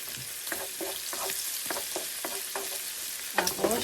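Garlic frying in a pan for a cabbage, onion, bacon and ground pork dish: a steady close sizzle with repeated stirring scrapes, ending in a few louder clatters.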